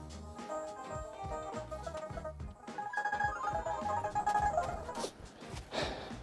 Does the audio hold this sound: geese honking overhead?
no